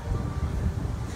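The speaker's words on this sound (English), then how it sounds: "and it's windy" Wind blowing outdoors in New York, a steady low rumble of gusts buffeting the microphone, close and continuous with no voices.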